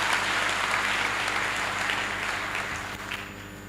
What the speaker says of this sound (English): shall we give another round sound of applause to the Commandant.